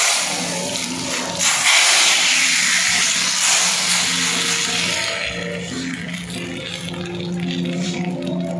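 Loud, steady hissing sizzle of a hot tempering (phoron) poured into mutton keema khichuri, a broad frying rush that swells early and then settles into a softer continuous crackle.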